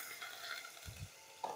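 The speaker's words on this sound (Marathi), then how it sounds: "हे थोडंसं आपण हलवून घेऊया." Chili paste and grated ginger stirred in a pan, a soft scraping and light sizzle that stays faint, with a couple of low spoon scrapes and a brief clink near the end.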